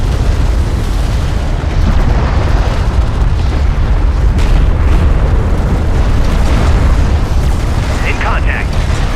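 Continuous loud battlefield din from the real-time strategy game Homeworld: Deserts of Kharak, with heavy booming explosions and weapon fire layered densely throughout, under radio-style unit voices reporting combat.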